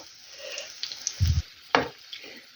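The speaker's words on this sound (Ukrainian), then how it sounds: "Ну от і все, хай смажуться." Cherry oladky pancakes fry in a pan, giving a soft steady sizzle with a brief low knock and a sharper clink partway through, fairly quiet and without talk.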